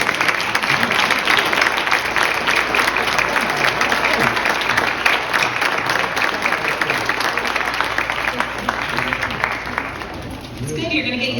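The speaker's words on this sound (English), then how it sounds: "you're going to get used to clapping" Sustained audience applause fills an awards ceremony for young honorees, dense steady clapping from a large crowd for about ten seconds, then tapering as a voice begins to speak.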